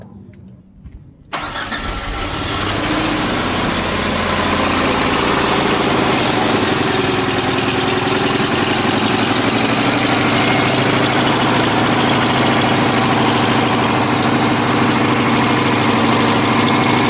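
A 1992 Ford Ranger 2.3L four-cylinder with a swapped 1995–2001 cylinder head cranks briefly, catches and settles into a steady, loud, close idle that runs alone for the rest of the span.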